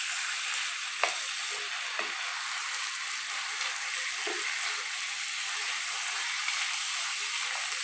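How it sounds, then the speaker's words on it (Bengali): Meat fries with garlic paste for Lucknow-style nihari, a steady close hissing sizzle broken by a few light clicks and scrapes of stirring. "আর দেবো রসুন বাটা দিয়ে সেখানে ভাজবে"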